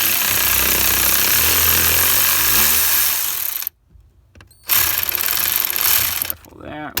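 Battery power tool whirring in loud bursts as it loosens 8mm screws on a BMW E46 fuse box, stopping briefly between runs, with a short metallic clatter near the end.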